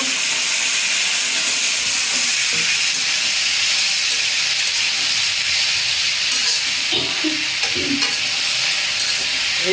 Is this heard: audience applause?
no